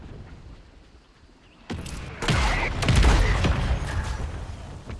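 Gunfire erupts in a shooter video game after a quiet start, a loud, dense spray of rapid shots with heavier blasts mixed in, and a voice is briefly heard speaking.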